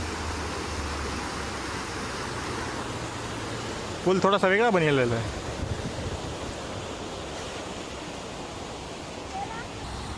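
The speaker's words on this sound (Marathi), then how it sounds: "पाणी पूर्ण आवाज द्यायला लागले गडगड गडगड गड" A swollen river rushes under a bridge at Alandi near Pune in a constant loud roar, with someone briefly speaking over it midway.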